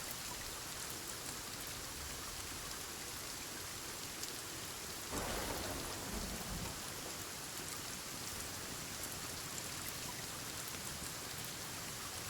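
Steady rain hisses across a stormy Sons of the Forest landscape, with a low thunder rumble swelling midway through and fading back into the continuous downpour; no voices.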